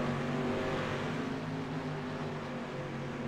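Dirt street stock cars race on a short oval, several engines droning steadily together at a distance with a low rumbling hum and no talk over it.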